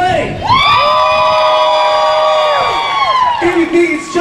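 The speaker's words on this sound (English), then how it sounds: "Give a round of applause, everybody." Cheering, whooping and shouting from a crowd, children's voices among them, voting for a contestant in a men's chess competition on a Carnival Paradise cruise ship, loud and sustained for about three seconds before falling back.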